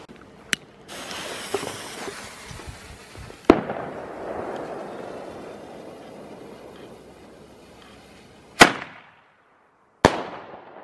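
Loud Thunder Kong fireworks fire outdoors: a sharp launch crack, then a hissing, crackling stretch, followed by two more sharp bangs near the end.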